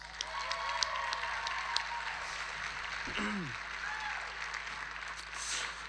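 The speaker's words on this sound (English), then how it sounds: "They deserve a round of applause, really." Audience applause at a leadership conference, a dense, moderate patter of many hands that runs steadily for about six seconds, with a few voices briefly audible through it.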